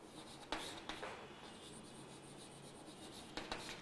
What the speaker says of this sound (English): I'll just write here transparent also